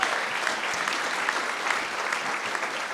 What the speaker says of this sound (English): I think we owe them a big round of applause.